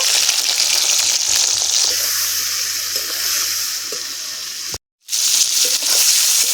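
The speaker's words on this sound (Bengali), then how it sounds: "পটলটা হালকা আঁচে অনেকক্ষণ ধরে বেশ লাল করে করে ভাজতে হবে" Sliced pointed gourd (potol) seasoned with salt and turmeric sizzles steadily in hot oil over low heat, a close, continuous frying hiss with a brief dropout near the end.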